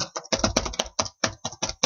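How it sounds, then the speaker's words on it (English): Rapid clattering keystrokes on a computer keyboard, close and crisp, in quick uneven bursts. "Forgive my quick typing."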